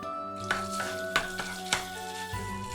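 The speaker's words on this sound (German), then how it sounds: "Wenig Öl in die heiße Pfanne. Tomatenmark anbraten." A pan sizzles with tomato paste frying in a little oil while a utensil stirs and scrapes, giving a few sharp clinks against the metal at regular intervals.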